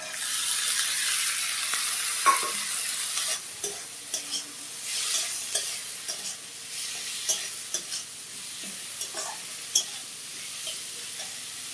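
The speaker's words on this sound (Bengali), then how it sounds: "দেখো, বিনস, গাজর, বিট ভাজা ভাজা হয়ে গেছে।" Beans, carrot and beetroot frying in a pan, stirred with a utensil: constant close sizzle under repeated scraping and clacking stir strokes at an irregular rhythm, no voices.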